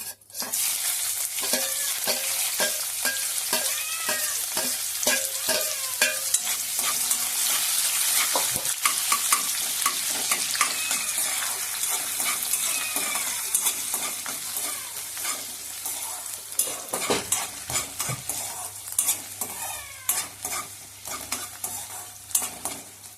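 Onions frying with bay leaf and spices in a pan, a dense continuous sizzle with frequent stirring scrapes and utensil clinks throughout, the frying easing off near the end, no talking.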